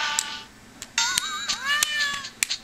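Cat meowing in the Elite Beat Agents video game, several drawn-out rising and falling meows in close succession, fairly clear over a quiet background.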